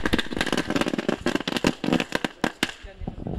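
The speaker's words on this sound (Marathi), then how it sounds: "स्वागत फटाक्यांच्या आतिषबाजीमध्ये" Firecrackers burst in a fast, dense string of sharp cracks to welcome a guest at a local cricket tournament, continuous popping for several seconds at moderate distance with voices and crowd noise underneath.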